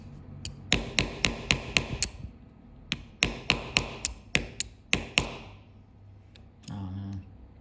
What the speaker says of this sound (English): Actually came with his own pin pusher and hammer, so I'm gonna use those.